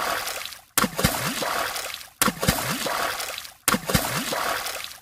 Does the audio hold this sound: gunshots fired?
no